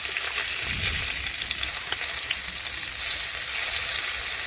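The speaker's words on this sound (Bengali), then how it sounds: "এইভাবে মাছগুলো উল্টে আমি আরেক পাশ ভাজার জন্য কিছুক্ষণ অপেক্ষা করব।" Hilsa fish pieces frying in hot oil in a pan, a steady close broadband sizzle and crackle throughout with a few soft stirring or turning bumps, no voices.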